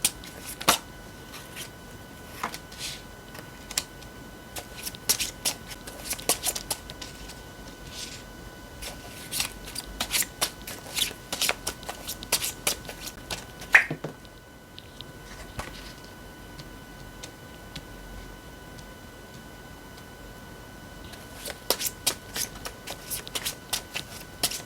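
Tarot cards are shuffled close by in quick riffling bursts of crisp flicks and taps, with a brief pause midway before the rapid shuffling resumes.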